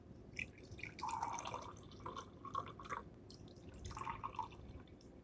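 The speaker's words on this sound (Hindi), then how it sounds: "हिलाने के बाद आपने एक छाननी लेनी है और उसमें इसका पानी डाल लेना है" Tea-leaf water is poured through a kitchen strainer into a cup, giving a faint, close trickle with intermittent drips and splashes.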